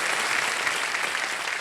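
A studio audience on a TV quiz show bursts into brief, steady, dense applause for a winning contestant.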